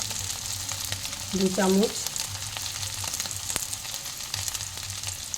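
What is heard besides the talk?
spices sizzling as coriander powder is fried in a pan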